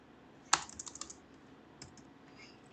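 A quick burst of close computer keyboard keystrokes, one sharp click followed by a short run of lighter taps, then a couple of isolated taps, with no talking.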